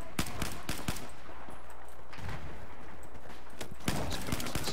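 Sniper gunfire in a video game, with sharp, loud cracks at an uneven pace over a constant rumbling background of battle noise.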